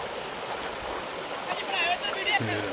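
Steady rushing of floodwater flowing into rice paddies in Kalupur village, broad and continuous up close, with faint voices and a brief tonal sound near the end.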